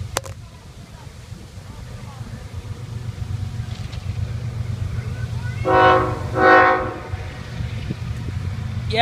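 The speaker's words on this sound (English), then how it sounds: "Hello, train's coming." A train passes close by with a horn, heard as two loud horn blasts rising over steady low rumble of rail traffic, with people talking nearby.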